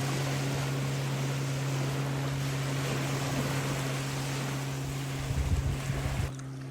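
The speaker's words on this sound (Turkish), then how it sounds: "Görüyor musun kötü botun yaptığı dalgayı?" Low steady motorboat engine drone with wind and water wash on a reservoir, ending with a few louder splashes of the boat's waves slapping nearby before cutting off.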